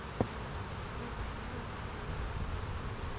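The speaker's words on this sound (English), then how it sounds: "You got a couple bees there." A soft, steady buzz of honeybees hums close by at a hive, with a brief tap near the start and no talking.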